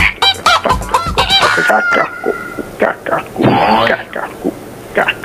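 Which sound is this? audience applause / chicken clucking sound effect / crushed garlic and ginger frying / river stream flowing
chicken clucking sound effect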